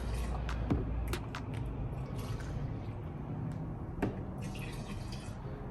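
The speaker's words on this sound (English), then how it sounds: "I'm just gonna pour a bunch of product in there" Car wash product poured into a bucket holding about 2 gallons of water gives a steady liquid trickle and splash, with a couple of brief louder drips, close and unbroken throughout.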